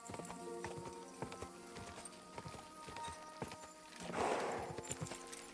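Horse hooves clip-clop at a steady walking rhythm in the medieval game Kingdom Come: Deliverance II, close and fairly loud over soft game ambience and a music-like tonal bed, with a brief louder rustle near the end.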